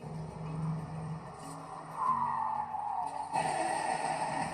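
The president of the United States's car drives past, a vehicle sound that swells and then shifts into a rising higher-pitched tire or engine tone, with a brief sharp change near the end and no voices.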